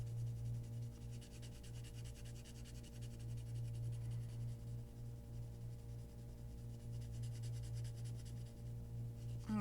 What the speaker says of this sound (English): Notice I shaded kind of light and I used the side of my pencil.